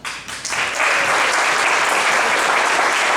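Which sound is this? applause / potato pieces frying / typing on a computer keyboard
applause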